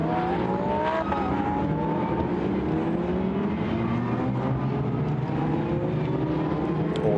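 Several Lamborghini Huracan Super Trofeo Evo race cars with 5.2-litre engines on a formation lap at Silverstone drone continuously and loudly, their overlapping engine notes slowly rising and falling as they run together.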